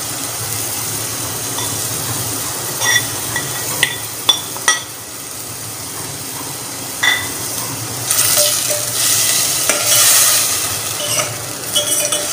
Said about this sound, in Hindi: अब इसको अच्छी तरह फ्राई करेंगे।